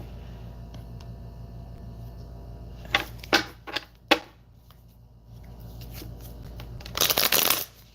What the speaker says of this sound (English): 1 more shuffle for Frank.